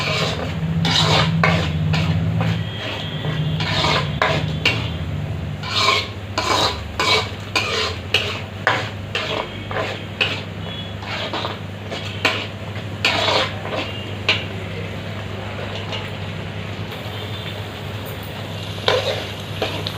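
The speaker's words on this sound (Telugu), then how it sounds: "టమాటాలు పచ్చివాసన పోయేంత వరకు వేయించుకోవాలి" Tomatoes sizzling in a pan for fish curry, with a spoon stirring and scraping against the pan in repeated bursts over a steady frying hiss, close and moderately loud, no talking.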